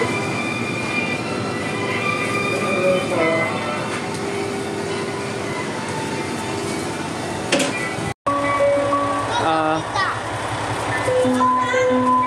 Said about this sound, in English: our train's about to come